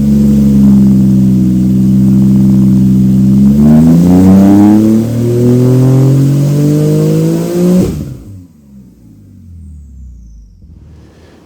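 An 800-horsepower Porsche 992 Turbo S engine revs hard on a dyno, pitch climbing steadily under full throttle, then cuts off abruptly and winds down into near silence.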